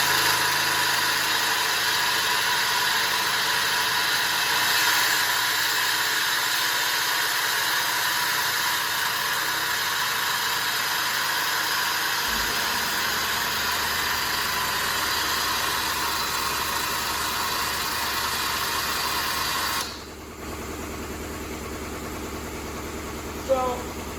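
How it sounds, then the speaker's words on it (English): An air compressor runs in a workshop beside a tubing bender, making a loud, steady mechanical drone that shifts in tone partway through and drops to a quieter hum near the end. "Sorry about the air compressor kicking on, but there's nothing we can do about it."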